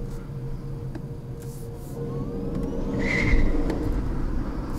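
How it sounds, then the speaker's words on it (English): Tire spinning on a 2019 BMW i8 running on electric-only power, a steady scrubbing road noise with a faint electric whine and a brief squeal swelling slightly midway, close and fairly quiet. "you've never been able to hear a wheel spin so clear before because of the electric only power."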